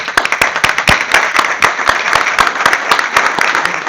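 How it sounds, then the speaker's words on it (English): A room full of people at a city council meeting applauding, dense steady clapping at close range for a few seconds, loud and continuous without speech. "We want to give you a round of applause."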